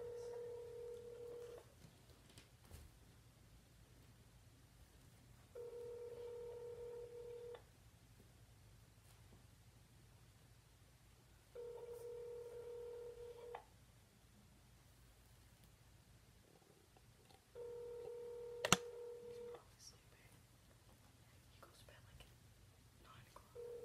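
A phone call rings out toward voicemail: four evenly spaced ringback tones, each about two seconds long, sound faint and thin through a handset, with a low hum and soft rustling in between.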